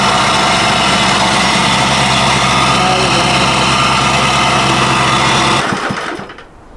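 A plate compactor vibrates over mud and sand on a patio base, a loud, steady, rattling engine drone that holds for several seconds and then cuts out and winds down.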